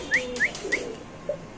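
A Mundian pigeon calls with three short, rising whistled notes in quick succession, followed by a softer, lower coo, all close and clear.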